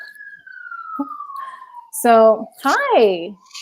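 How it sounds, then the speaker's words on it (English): An emergency vehicle's siren outside drifts down in one long, steady falling wail at moderate loudness, then a person starts talking briefly as the siren fades underneath. "sorry about the siren."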